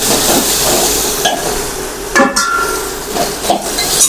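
A spoon stirs a sizzling tempering of curry leaves in a pan, giving steady frying crackle broken by several sharp scrapes and clinks against the metal.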